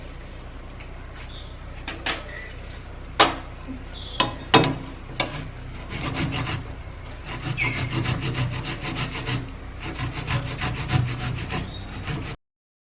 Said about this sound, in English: so after grating the tomato